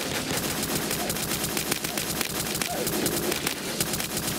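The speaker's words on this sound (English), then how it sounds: "I got the minigun." A minigun in the Roblox game Muffin Kombat fires in a continuous rapid stream of shots, loud and sustained throughout with a faint voice underneath.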